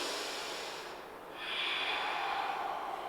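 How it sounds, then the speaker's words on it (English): A single nasal breath during a vinyasa yoga class: a soft, close exhale through the nose, a brief pause, then a longer airy inhale that fades slightly, faint and alone. "Breathe."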